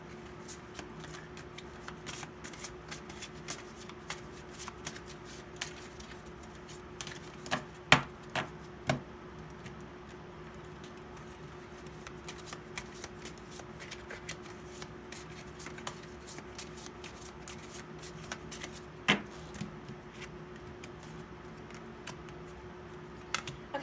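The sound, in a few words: shuffling tarot cards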